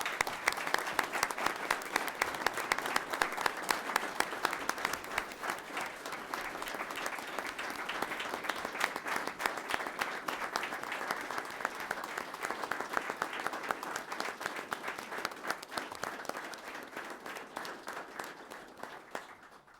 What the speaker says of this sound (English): Let's please give a round of applause for Kayla and her family.